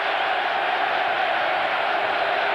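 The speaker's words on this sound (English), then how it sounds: "And now the crowd cheering because they think he's injured." Football crowd at a 1996 Coventry City versus Arsenal match at Highfield Road, a steady roar of cheering and shouting from a big stadium crowd that holds throughout.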